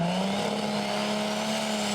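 McCormick-based pulling tractor launching down a dirt track while dragging a weighted sledge at a Eurocup tractor-pulling final, a loud, steady, high-revving engine roar with a rising whine that holds throughout.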